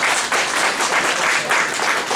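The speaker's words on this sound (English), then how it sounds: "a big round of applause" Applause from an audience at a business expo in London, a steady wash of many hands clapping together throughout, fairly loud and continuous with no voices standing out.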